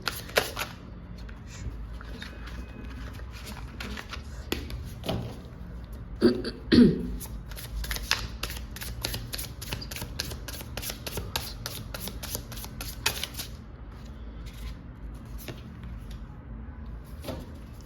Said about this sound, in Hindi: और थोड़े मैं कार्ड्स निकालूंगी देखने के लिए कि वो ऐसी कौन सी चीज़ें हैं जिससे आपको सतर्क रहने की ज़रूरत है।